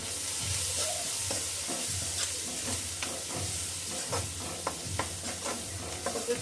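Spices such as turmeric and red chilli powder frying in oil in a pan, with a steady sizzle and repeated rhythmic scrapes of a spoon stirring through the mix, close and moderately loud with no talking.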